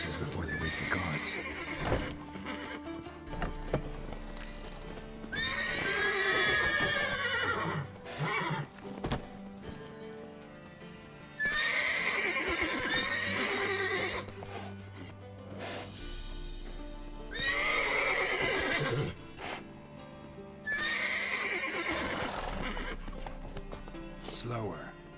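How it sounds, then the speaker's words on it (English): Horses in The Witcher 3 video game whinny loudly and repeatedly, with clip-clopping hooves between the long neighs, close and prominent throughout. "Gotta calm all the horses before they wake the guards."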